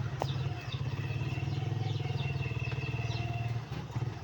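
A motorcycle idles and pulls slowly out of a crowded parking area among many other bikes, its steady low engine putter continuous and fairly close, with faint clatter near the end.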